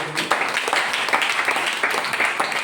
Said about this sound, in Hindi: उनके लिए एक बार जोरदार ताली आपको